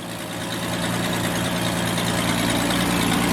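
A 1966 Ford Mustang engine idles right after a fuel pump replacement with a loud, dense and steady rumble that runs unbroken from start to finish, with no voices.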